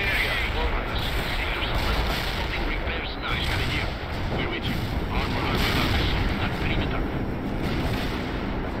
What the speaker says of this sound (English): Bombing run is on the way.